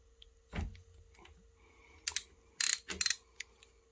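A part is unthreaded while fitting a rack to a Standard 125R touring motorcycle, heard as a few sharp, close mechanical clicks and short ratcheting bursts between quiet gaps.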